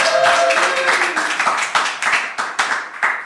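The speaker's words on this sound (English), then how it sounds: "Give yourselves a round of applause for coming out." Live audience applauding at a Berlin news show, a loud burst of clapping that starts dense and thins into scattered, distinct hand claps toward the end.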